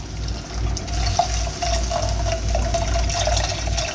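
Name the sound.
milk poured in and whisked for mac and cheese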